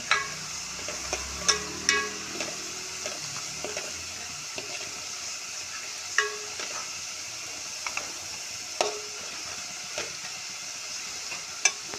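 Food is stirred in a pan over a high flame until it browns for a khuska kurma, with a soft continuous sizzle and intermittent metallic scrapes and clinks of a spoon against the pan. The sound is moderately quiet and has no talking.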